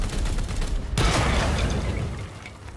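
A gunshot at a plasma cell in Warhammer 40K Daemonhunters, a single loud, sharp report that cuts in sharply and then rings out into a sustained, noisy rumble.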